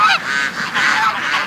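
A goose on a farm raising ducks honks loudly and close by, a single sustained nasal call breaking into a couple of rough bursts over about a second and a half.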